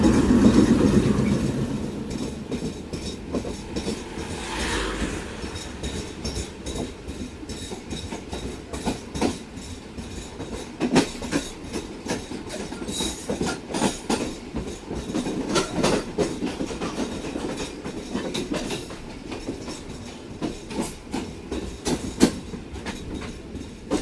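A relief train rolls past on the rails at Holari railway station, wheels clattering in a steady clickety-clack with occasional sharper knocks, a continuous rumbling pass.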